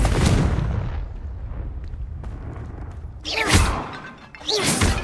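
Blasting spell explosions in Hogwarts Legacy as a Confringo curse smashes a vase, a loud booming burst followed by crackling debris, then a second heavy blast, with a short voice cast over the noise.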